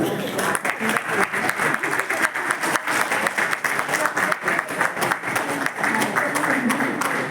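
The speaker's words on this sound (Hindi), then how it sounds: "एक बार फिर मैं आपसे चाहूंगा कि आपकी जोरदार तालियां" Loud, dense audience applause fills a literary festival hall in Gorakhpur for actor Sanjay Mishra, a steady wash of many hands clapping close and continuous throughout.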